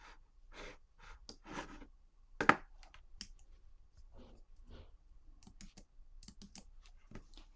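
Keys on a Mac computer keyboard are pressed in sparse, quiet taps and clicks, one sharper press standing out, with soft breaths between in a quiet room.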